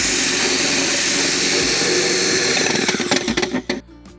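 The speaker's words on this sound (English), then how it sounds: "we just put a file into our drill." A power drill fitted with a metal file as its bit, used to widen holes, whines loudly and steadily, then spins down with scraping rattles and knocks at the end.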